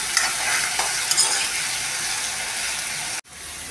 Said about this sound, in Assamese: এইফালে এয়া ভাজি লওঁ